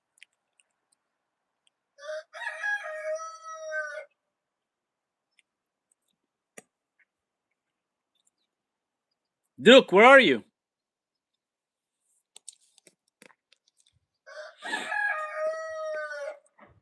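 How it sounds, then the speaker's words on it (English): A rooster crows once in a morning farmyard, a loud, clear call standing alone between stretches of a person's speech. "especially when you hear the rooster going in the morning"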